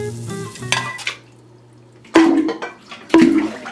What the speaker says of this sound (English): Then I started cooking it with a frying pan.